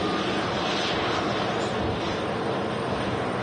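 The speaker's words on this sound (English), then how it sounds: "Austrian Embraer on the way back to Vienna." Austrian Airlines Embraer jet at Manchester Airport, a steady broadband engine roar that is loud and continuous throughout, with no talking.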